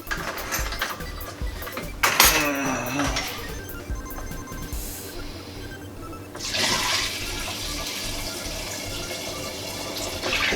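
Liquid pouring and splashing while topping off a small batch of homebrew maple bacon beer, with a bright gurgling burst early, a quieter stretch, then a steady splashing fill that continues to the end.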